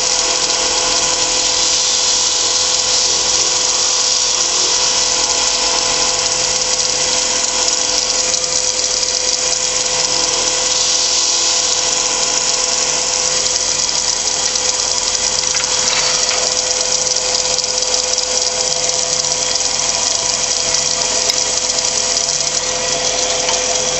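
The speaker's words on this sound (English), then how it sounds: "apply friction to melt the wax into the wood" A wood lathe spins steadily while wax is rubbed onto the turning wooden piece, making a continuous whirring motor hum with a dense friction hiss that holds level and unbroken throughout.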